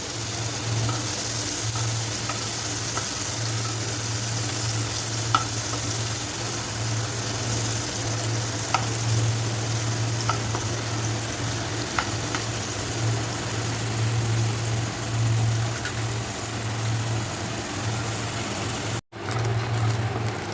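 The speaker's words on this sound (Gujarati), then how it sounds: "હવે પનીરને થોડું શેલો ફ્રાય કરી લઈશું." Paneer cubes shallow fry in hot oil with a continuous, even sizzle lasting about twenty seconds. A steady low hum runs underneath, and faint occasional clicks are heard before a brief cut near the end.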